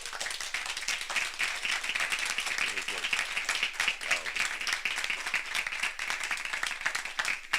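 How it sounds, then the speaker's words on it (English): An audience claps steadily at the close of an artists' talk, a dense, even patter of hands heard at moderate distance, with a short spoken remark over it. "Let's give them a round of applause."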